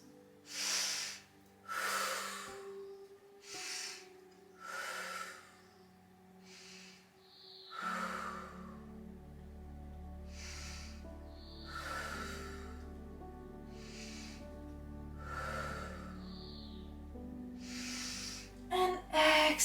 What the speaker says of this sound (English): Take 5 full breaths.